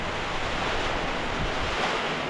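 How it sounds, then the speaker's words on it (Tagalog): Powerful typhoon wind blows in a constant heavy roar, broadband and unbroken, with no speech over it. "Lakas ng hangin, Lord."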